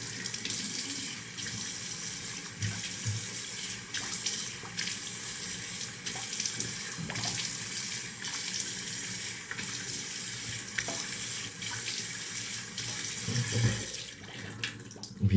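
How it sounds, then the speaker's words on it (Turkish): A tap runs steadily into a sink while a face is washed after a razor shave, the continuous close water rush broken by splashes and hand scoops. "Evet, yüzümüzü yıkayalım."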